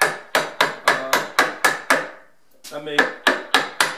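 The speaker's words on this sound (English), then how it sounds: "I kind of like this chiseling method" Hammer strikes on a wooden chisel cutting into wood for a saw bench, a loud close series of sharp knocks in a steady rhythm, about a dozen blows with a brief pause midway and a short spoken word.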